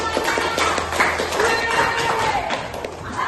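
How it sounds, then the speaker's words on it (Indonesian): Elementary school students clap together in a classroom, a dense ragged burst of many small hands lasting a few seconds, with voices mixed into the noise. "tepuk tangan untuk"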